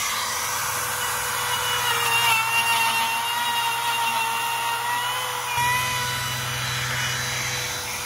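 Power saw cutting green timber for a post and beam house build: a steady, loud high-pitched whine runs the whole clip, its tone shifting slightly partway through, with no talk.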